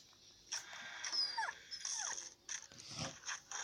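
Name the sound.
dog whimpering in Into the Dead video game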